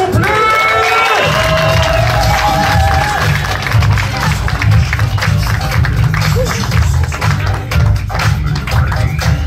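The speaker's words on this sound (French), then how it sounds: "Faites-moi un tonnerre d'applaudissements pour Michael Lavalée s'il vous plaît" A comedy club audience greets a comedian with a loud, sustained wave of applause and cheering, with whoops over steady clapping that fills the room from start to finish.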